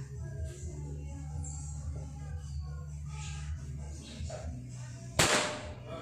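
A Predator Jaguar air rifle fires one sharp, close crack near the end of an accuracy test at 50–70 metres, after a stretch of quiet background hum.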